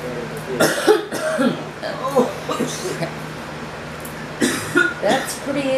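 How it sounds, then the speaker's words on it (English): A person coughs repeatedly in harsh, close bursts, with short pauses between fits and a few other voices talking quietly nearby. "I can't stop coughing."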